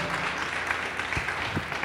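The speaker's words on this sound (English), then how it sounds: "Let's round of applause on that" Brief burst of applause, a steady wash of clapping from a small group, fairly close.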